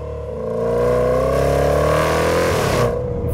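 Supercharged V8 in a 2022 Jaguar F-Pace SVR pulling hard under acceleration, a loud rising engine roar with supercharger whine that climbs steadily before easing off near the end.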